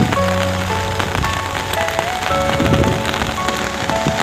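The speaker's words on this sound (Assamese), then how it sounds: "বহুত বেছি বৰষুণ দি আছে" Heavy rain pours steadily during a flood in Assam, a dense, loud, continuous hiss of drops on surfaces near a highway, with faint tonal background sounds and no clear voices.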